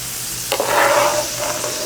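Garlic and ginger start frying in hot oil for basmati rice pilaf, a loud sizzling burst that begins suddenly and then holds steady, with a faint stir partway through.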